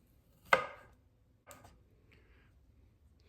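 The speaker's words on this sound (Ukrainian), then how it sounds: "І зараз ми помаленьку будемо нарізати. Ківі наріжемо." A knife slices through kiwi fruit on a board, one sharp close chop followed by a softer second cut and faint scraping, with no voices.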